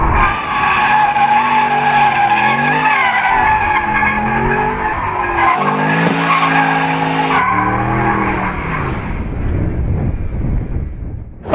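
Mercedes-Benz SLS AMG doing donuts, tires squealing and skidding loudly and continuously with the engine roaring underneath, close by and with no talk.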